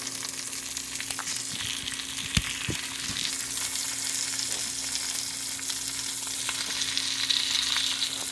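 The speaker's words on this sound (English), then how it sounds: "I have beef tallow melted into the pan" Meat fries in melted beef tallow in a pan over turned-down heat, giving a steady close sizzle with occasional pops and small clicks, with no talk.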